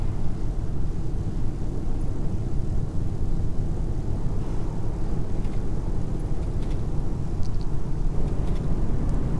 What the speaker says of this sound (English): I love this bit, by the way, where the planes go over.